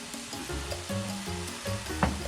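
Fish sizzles steadily in a hot pan while cooking the Cebuano dish nilarang na isda, a faint continuous frying crackle with soft clinks and no talk.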